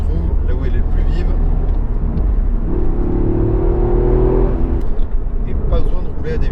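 Toyota GR Yaris 261 hp Track Pack accelerating in sport mode, a loud continuous engine drone rising in pitch in the middle, with road rumble, and someone talking over it.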